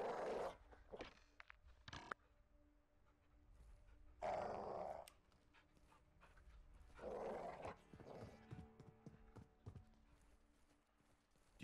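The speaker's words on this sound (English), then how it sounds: "Do you see the caged dog? Big geezer. If he barks, shoot him and repo quickly." Caged dog in Call of Duty Modern Warfare 2 growling in short rough bursts, with heavier growl surges spaced apart over a low game ambience.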